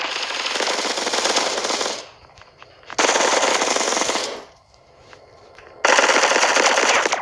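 Automatic gunfire in the mobile shooter Bullet Echo comes in three loud, sustained bursts separated by short quiet gaps, with no voices over the shooting.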